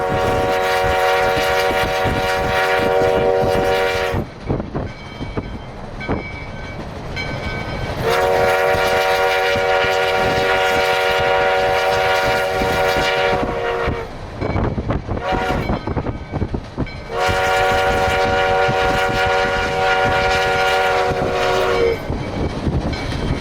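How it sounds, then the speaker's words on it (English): A U.S. Sugar passenger train rumbles past up close near Lake Placid, its horn sounding in three long blasts over steady clattering wheels. "pacing a passenger train with people on it who can wave at you"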